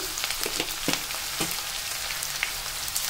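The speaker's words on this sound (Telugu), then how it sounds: "వేసుకొని ఆనియన్స్ని 2 మినిట్స్ మగ్గించుకోండి." Chopped onions with cumin and a pinch of turmeric sautéing in oil for bitter gourd fry, producing a close, steady sizzle with a few soft scraping stir sounds and no speech.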